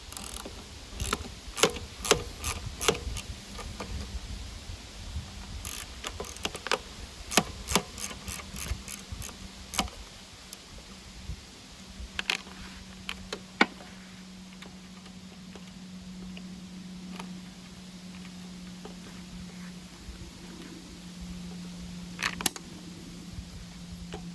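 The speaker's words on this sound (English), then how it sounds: "We'll go ahead and finish loosening these carb bolts." Carburetor bolts being loosened on a Toro self-propelled lawn mower, heard as sharp metallic ratchet clicks in bursts, then a quieter stretch with a faint low hum and a few more clicks near the end.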